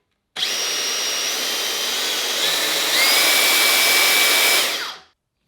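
A Makita 36V earth auger (DDG460) motor runs on speed setting 2, a loud, steady electric whine that starts abruptly, steps up in pitch partway through, then winds down to silence.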